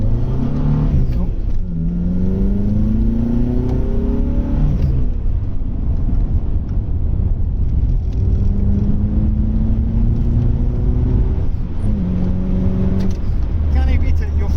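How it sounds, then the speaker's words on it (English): A car drives along a road and accelerates, its engine rising and falling through gear changes in a steady in-cabin drone, with people talking over it. "Jimmy, oh, let's get out in front of this Corsa"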